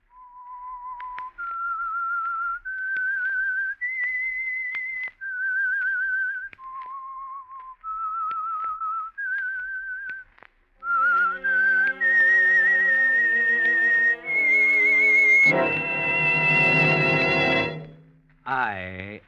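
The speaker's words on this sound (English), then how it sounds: "That whistle is your signal for the Signal Oil Program" A lone whistler carries the slow, eerie theme melody of the 1947 radio drama The Whistler, clear sustained notes rising and falling, before an orchestra swells in under the last notes.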